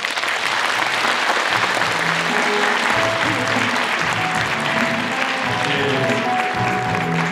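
Sustained applause from a large audience at a 2023 reunification rally opening ceremony in the Chungcheong region fills the whole stretch, dense and steady, with a voice faintly underneath.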